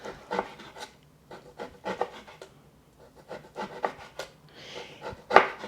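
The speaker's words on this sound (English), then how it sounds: "And you want to slice this thinly." A knife slices thinly through beef on a board in a series of short, soft cutting strokes, quiet and close, with gaps between cuts and no one speaking.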